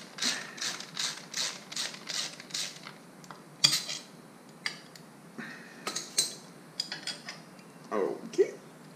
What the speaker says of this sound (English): You take a Torx 27 socket and you just take them off.